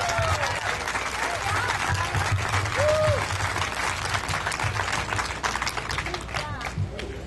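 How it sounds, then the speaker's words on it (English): Outdoor crowd at a Fourth of July Tea Party event breaking into dense, sustained applause with cheering and a whistle, voices mixed in, with a low hum underneath. "So please give them a round of applause as well."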